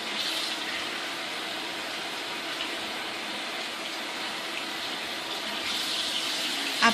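Hands are wetted under a running tap, the water splashing and hissing steadily at close range for several seconds, with slight swells as the hands move through the stream.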